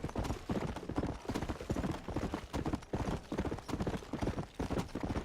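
Rapid, steady clip-clop of horse hooves galloping in the video game Red Dead Redemption: Undead Nightmare, a rhythmic pounding that stays even and fairly close throughout.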